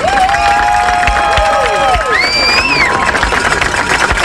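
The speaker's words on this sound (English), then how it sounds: "Guys, a big round of applause" Crowd at a high school football quarterfinal game between EHS and Kankakee McNamara cheers and applauds loudly, with whistles, shouts and rising voices over a steady crowd roar.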